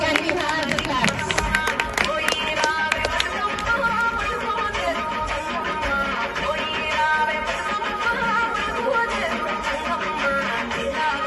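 Audience clapping along with loud music at a school performance, steady rhythmic claps blending with the music and crowd noise throughout.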